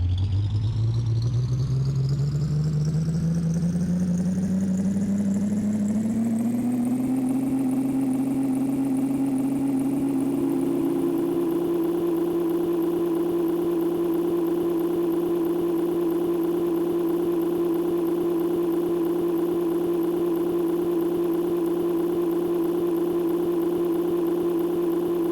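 Video game race cars rev up at the start, engine tones climbing steadily in pitch over several seconds and then holding a loud, even drone.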